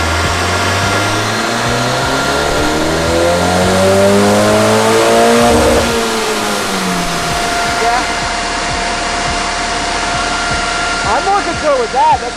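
An Abarth 124 with a big turbo and intercooler revs hard on a dyno, its engine climbing steadily in a long loud pull, then dropping off as a high turbo whine and flutter trail away with rattling idle.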